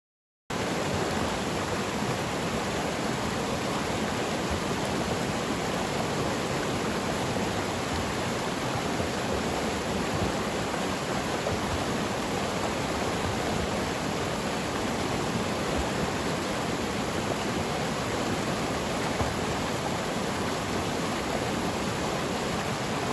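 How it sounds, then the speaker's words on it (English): A flowing creek rushes in a steady, unbroken wash of water noise that holds at an even level throughout, with no voices. "just enjoy the sights and sounds of the flowing creek itself"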